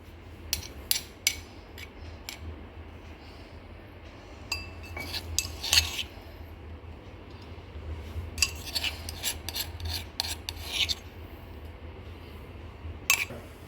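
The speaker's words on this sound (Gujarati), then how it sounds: "આ લસણ મરચાં ખંડાઈ ગયા છે તો આપણે એને હવે ડીશમાં નીકાળી લઈશું।" Metal spoon scraping and clinking against a mortar as pounded garlic and green chillies are scooped into a dish, scattered sharp scrapes and taps in clusters, close and moderately loud, no talking.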